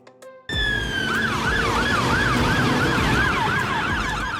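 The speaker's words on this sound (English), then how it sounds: "Airport Crash Tender, a special fire truck for airports, equipped to spray foam rapidly and deal with airplane fires" A siren of an airport crash tender fire truck, a foam-spraying airfield rescue vehicle, wails loudly and close in a rising-falling cycle over a steady engine rumble, alone without voices.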